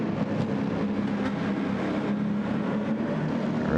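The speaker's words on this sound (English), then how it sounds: "you can hear the Lambo coming already" A Lamborghini race car at a 12-hour endurance race at Watkins Glen approaches on track, a steady engine roar rising in the distance and swelling louder toward the end, with no talk over it.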